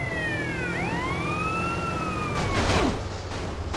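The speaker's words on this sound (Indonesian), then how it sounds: "sirine polisi." A police siren wails in GTA San Andreas Definitive Edition, its rising and falling tones sweeping loudly over steady engine and traffic noise with no talk.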